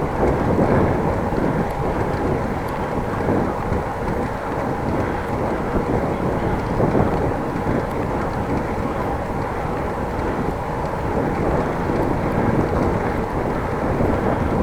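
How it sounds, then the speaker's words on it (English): Steady broadband wind roar buffets a microphone while cycling up a slight incline between Appingedam and Groningen, constant and loud for the whole stretch with no talking. "I do feel the wind now."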